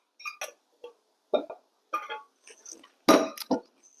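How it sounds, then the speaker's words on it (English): Wet and dry chocolate cookie ingredients being mixed in a bowl, heard as sparse, irregular clinks and taps of a utensil against the bowl, close by and separated by short silences, with no talk. "And now I need to mix the wet ingredients with the dry ingredients."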